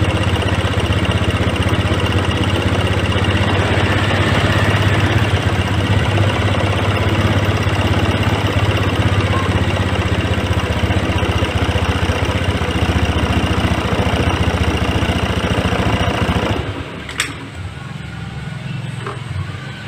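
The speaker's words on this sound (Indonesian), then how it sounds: "Kita mulai putar dan lihat perubahan dari putaran mesinnya." An injected Honda Scoopy scooter with a sputtering fault, its air screw being adjusted, runs with a steady close mechanical hum and then cuts out near the end, leaving a quieter background.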